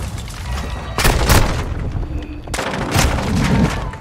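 Gunfire in the Modern Warfare 2 video game, with two dense bursts of shots around the first and third seconds over a steady bed of game noise, loud and close, with no talk.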